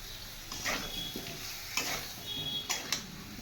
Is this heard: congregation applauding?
no